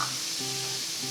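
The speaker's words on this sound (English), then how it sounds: "we're gonna reintroduce the mushrooms and some tomatoes. And toss them around a little." Crispy chicken, mushrooms and tomatoes sizzle in a hot pan while being tossed for chicken marsala. The frying hiss is steady and close, with a brief tonal hum partway through and no talking.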